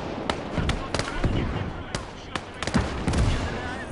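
Heavy artillery fire in the WWII game Call to Arms: Gates of Hell on the Eastern Front, with a BT tank taking hits: sharp scattered blasts and cracks at irregular intervals amid battle noise.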